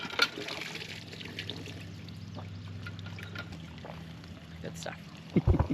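Water gushes from a hand pump at a hunt club in Illinois to rinse off boots, a steady pouring splash with a low hum running under it and a louder burst of splashing at the end.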